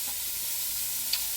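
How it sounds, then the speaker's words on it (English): Pieces of pork sear in a Ninja pressure cooker set to sear/sauté, giving a steady close sizzling hiss with a couple of faint pops. "the pressure cooker on and it's on sear saute, and I'm just going to add the pieces of pork"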